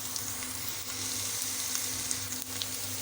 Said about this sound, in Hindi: इसको ऐड करने के बाद हम 2 से 3 मिनट के लिए इसको फिर फ्राई करेंगे